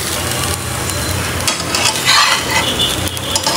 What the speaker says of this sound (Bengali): চুলার আঁচ কমিয়ে এভাবে আস্তে আস্তে করে ভাজতে থাকি